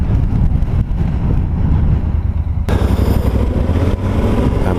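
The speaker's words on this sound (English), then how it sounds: "pretty decent wind." Strong wind roars past a motorcyclist's helmet while riding, a loud, constant rumbling buffet with the engine drone underneath that swells noticeably louder midway through as speed picks up.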